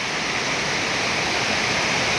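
Heavy rain pours down in a dense, unbroken hiss, loud and constant throughout.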